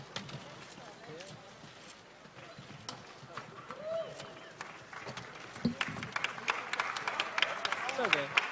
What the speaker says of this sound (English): Big round of applause for 2 classic gentlemen.